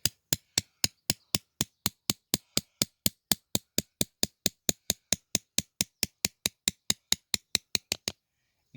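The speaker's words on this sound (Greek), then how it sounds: "με ένα σφυρί και ένα κατσαβίδι ίσιο προσπαθούμε να σχηματίσουμε μία σχισμή" A hammer taps steadily on a flat screwdriver, splitting a slit into a grapevine rootstock for grafting Assyrtiko. About thirty crisp, evenly spaced metallic knocks run close and loud with no talk, then stop abruptly.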